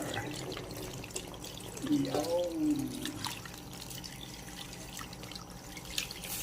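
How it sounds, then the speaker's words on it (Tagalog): Water from the Pasig River pours briefly into a container, with a short rising gurgle against a quiet, steady background hiss. "lalagyan natin ng tubig mula pa sa water, mula pa sa Pasig River"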